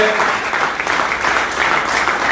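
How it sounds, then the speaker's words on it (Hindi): A standing audience claps loudly at a motivational success-story event in India, dense sustained applause filling the room from start to finish with faint voices mixed in. "एक बार इनके लिए भी खड़े होकर जोरदार तालियां बजा दीजिए"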